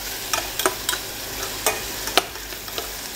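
Food being stirred in a pan after pepper and salt go in, with sharp scraping clicks at irregular intervals over a faint background hiss.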